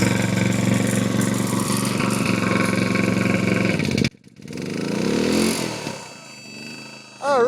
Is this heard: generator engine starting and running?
yes